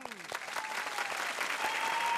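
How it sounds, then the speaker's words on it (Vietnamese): A studio audience applauds to welcome the fifth judge on a Vietnamese TV talent show, the clapping swelling steadily and filling the whole stretch, with a faint tone in the background. "Mời chúng ta trong tràng pháo tay chào đón giám khảo thứ 5"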